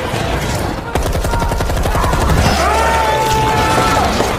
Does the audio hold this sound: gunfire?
yes